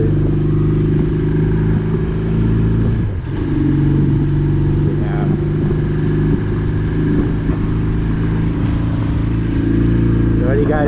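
A Honda Classic motorcycle engine idles and runs steadily close to a GoPro-mounted microphone, a loud, continuous low rumble with a brief dip partway through and light mechanical clatter.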